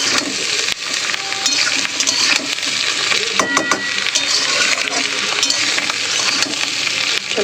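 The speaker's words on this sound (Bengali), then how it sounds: "আলু পেঁয়াজ ও ডিমের সঙ্গে বেগুনটা একটু ভেজে নেব।" Eggplant frying in a pan with potato, onion and fish roe, stirred with a spatula that gives repeated clinks and wooden scrapes over a soft, steady sizzle.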